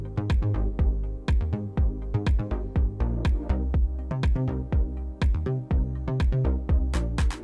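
Layered chords in a music production, played in a punchy freestyled rhythm with dynamic chord variation, repeated stabs over thick low-end and sharp transients, loud and continuous with no voices.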